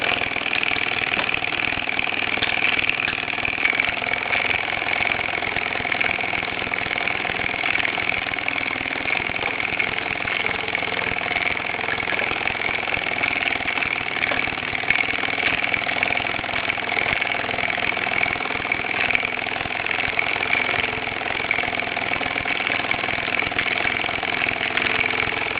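A Bowman PW201 model steam engine, restored with new paint and decals, runs under steam with a steady, even mechanical churn that stays constant and moderately loud throughout.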